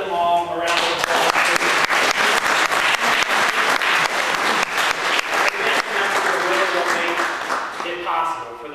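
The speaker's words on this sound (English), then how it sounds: "Let's give them all a round of applause." A large audience claps loudly and steadily for service members' families, a dense, unbroken wave of applause that holds strong from start to finish, with some crowd voices mixed in.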